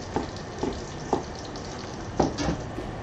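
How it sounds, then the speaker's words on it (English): Butter sizzles in a new cooking pot during home cooking of vegetable stock and potato soup, a steady crackling fry with a few sharper spits and pops standing out, close and moderately loud with no talk. "So I'm hearing that butter sizzle like that."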